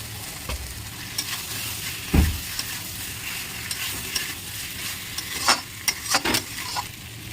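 Spice paste with potatoes and eggs cooks in a pan for a village-style egg curry, giving a steady close sizzle broken by several sharp scraping stirs and clinks, with no talking.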